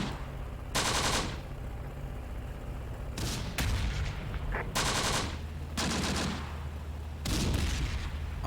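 Enemy machine-gun fire in the tank battle at Sbiba Ridge in the war game Close Combat: The Bloody First comes as five or six loud, sharp bursts at irregular intervals over a low rumbling background, with no talking.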